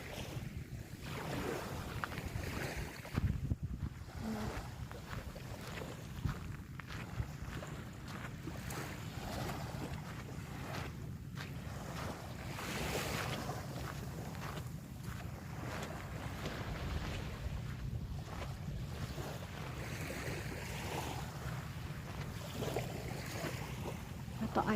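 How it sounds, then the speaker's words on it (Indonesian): Gentle sea waves on the calm back side of Sanrobengi Island near Takalar, Makassar: steady soft wash of water mixed with heavy wind buffeting the microphone, no clear individual breakers and no speech. "Di sini ombaknya tidak terlalu keras."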